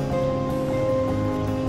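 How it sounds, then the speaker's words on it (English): Steady wash of ocean waves on the shore of Gili Trawangan island near Lombok, Indonesia, a continuous mid-level surf rumble with no pauses or voices throughout. "It is the music of the waves mixed with the sound of bicycle bell and the sound of how horse running on the road."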